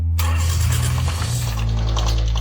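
A scrapped Toyota Prado VX with a sludge-caked engine cranks briefly, then catches and settles into a loud, close, rumbling idle.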